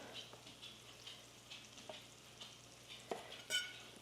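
Herbs and green onions sauté in a pan, giving a faint, steady sizzle with scattered soft crackles and pops and one brighter spike near the end, with no talking.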